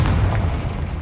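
A Confringo spell blast in Hogwarts Legacy gives a brief, dense, low rumbling boom that fills the whole second at steady loudness, muffled and heavy, with no voices.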